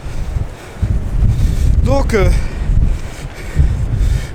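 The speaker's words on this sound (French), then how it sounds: "Ah, là il y a un petit peu plus de vent." Wind gusting outdoors around a camera on an aluminium Manfrotto tripod, a steady loud rumble buffeting the microphone throughout while someone speaks briefly over it.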